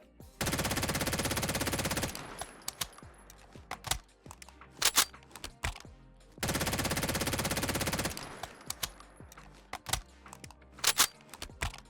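A custom machine gun in Fallout 4 fires two long, loud automatic bursts. Each burst is followed by a run of sharp clicks and clacks from a custom reload.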